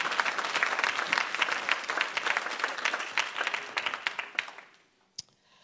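A church congregation applauding Jesus in dense, sustained clapping that fills the room, loud at first and then thinning and fading out, leaving a single late clap.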